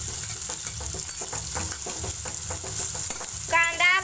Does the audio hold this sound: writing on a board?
no